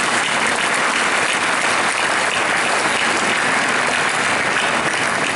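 A large audience at a political rally claps steadily and loudly, a dense continuous wash of applause that holds without pause from start to finish.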